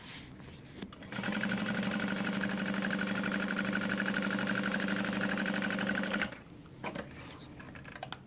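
A sewing machine runs a steady fast stitch along a bag seam for about five seconds, its even mechanical whir loud and close, bracketed by quieter handling noises before and after.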